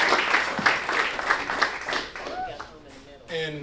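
Audience applause ringing out at a boxing and combat sports event in Oklahoma, dense clapping for about three seconds before a voice begins talking over the fading crowd.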